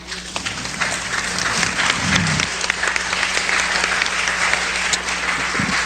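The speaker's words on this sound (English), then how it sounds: "let's give him another round of applause" Sustained audience applause for a speaker after a talk on reparations and Black economic power, a dense steady clapping that fills the room at full strength for several seconds.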